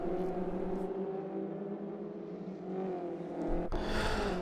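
Ginetta G40 GT5 race cars battle on track at Croft Circuit, a steady engine drone with a louder surge at the end as one passes closer.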